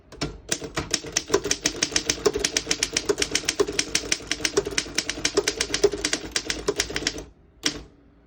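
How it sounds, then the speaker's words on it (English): Rapid, steady mechanical keystrokes clack one after another on a 1928 Underwood No. 3 desktop typewriter, followed by a pause and a final ding-like strike. "I'll type a sentence on the next line."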